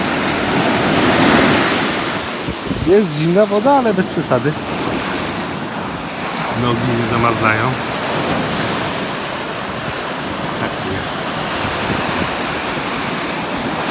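Surf washing onto a sandy beach in Gozo, Malta, a loud, broad roar of waves rolling in and receding close by, with wind on the microphone and people talking over it.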